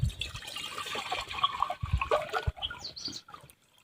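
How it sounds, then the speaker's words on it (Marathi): Water is poured into a cooking pot, a steady close splashing and trickling that runs for a few seconds, broken by a couple of knocks against the vessel, then tails off. "आता याच्यामध्ये आपल्याला पाणी टाकायचे आहे"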